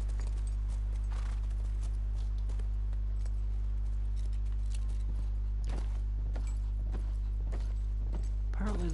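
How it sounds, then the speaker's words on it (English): Horse hooves clip-clop at a slow walking pace in a video game, several light steps spread across the clip over a steady low hum. "What well-trained horses."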